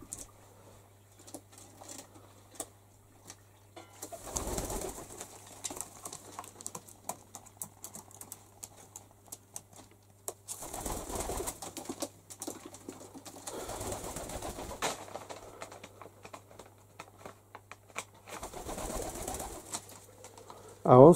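Pigeons from a new brood shuffle and coo inside an indoor coop, with soft intermittent rustling and tapping in several bursts over a faint steady hum, fairly quiet and close.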